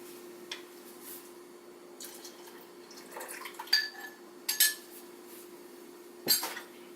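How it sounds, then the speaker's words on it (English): A utensil stirs cornstarch into a hot cake mixture in a pot, producing faint scraping and a few sharp metallic clinks against the pot, spread unevenly over a low steady hum. "2 tablespoons of cornstarch, mix it, and now add it to our hot mix."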